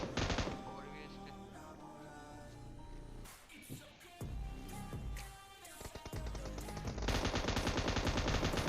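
Rapid bursts of automatic gunfire in the battle royale video game PUBG, loud and dense across the whole span with a short lull in the middle before a heavier volley at the end, mixed with game music and effects.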